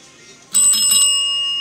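A bicycle-style bell pressed once gives a crisp, bright metallic ring that starts suddenly and then rings on, fading slowly, close to the listener.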